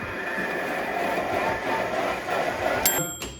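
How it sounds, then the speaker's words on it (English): A blender purees broccoli and sour cream soup in a home kitchen, a loud, steady whirring roar that runs unbroken for about three seconds before a short change in tone near the end. "Now, into the blender."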